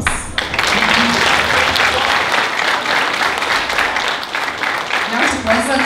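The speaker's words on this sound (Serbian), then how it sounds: "Ovo je zaslužilo jedan još jedan aplauz." An audience at a Christmas concert claps loudly and steadily for about six seconds, a dense full-room applause with a voice briefly heard over it.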